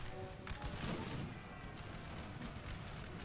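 Musket volleys in the Napoleon Total War battle game, a low, dense rumble of massed shots with crackling layered over a continuous battlefield din, fairly faint and distant.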